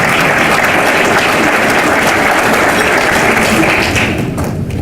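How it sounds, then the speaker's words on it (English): A hall audience at the 2016 State of Clayton County Address breaks into loud, sustained applause, a dense steady wash of clapping that holds for several seconds before thinning slightly at the end. "Y'all can clap for that"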